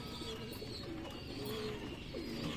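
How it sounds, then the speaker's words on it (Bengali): Several pigeons in a breeding loft coo in low, throaty murmurs as they feed, over a steady, soft background hum, with no talking. "সব পায়রাগুলো খাচ্ছে"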